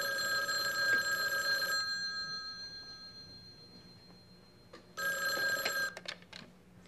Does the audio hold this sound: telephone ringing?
yes